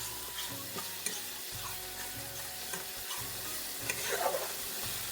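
Spices for a jackfruit curry sauté in hot oil, a steady sizzle broken by scraping stirs and clinks of a spatula against the pan, close and moderately loud throughout.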